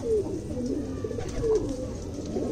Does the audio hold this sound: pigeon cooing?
yes